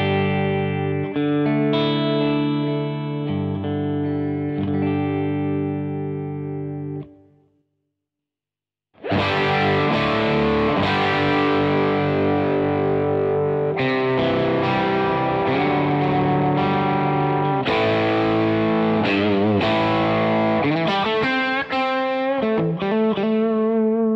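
Electric guitar played through a Crazy Tube Circuits Hi Power pedal into an amp, first sustained chords, a brief silent gap, then dense distorted strummed riffs with full, continuous drive.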